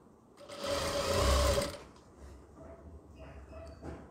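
A sewing machine stitching a frock panel runs in one loud, steady whir for about a second and a half, then stops, leaving quiet handling sounds of fabric and light background noise.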